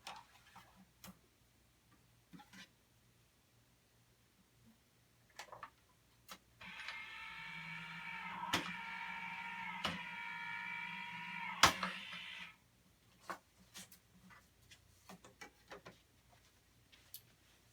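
Electric die cutting machine rolling paper through, a steady motorized whirr lasting about six seconds, surrounded by quiet scattered ticks and clicks of handling nearby.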